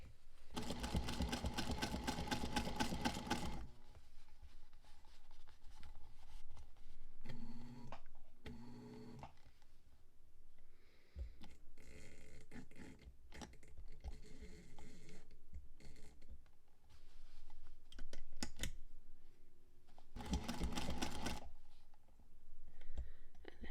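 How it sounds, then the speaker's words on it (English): Sewing machine top stitching a fabric scrunchie, running in bursts of rapid, steady needle chatter with short pauses and small clicks between, fairly close and clear. "I just do a little top stitch, and that seems to do the trick."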